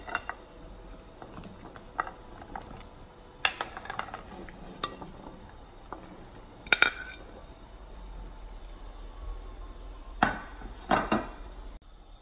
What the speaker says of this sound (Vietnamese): đi cho hết dĩa bầu vào luôn.